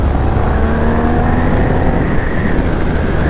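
A motorcycle engine pulls hard under heavy throttle in third gear up a steep slope, a loud, steady, close drone that climbs slowly in pitch.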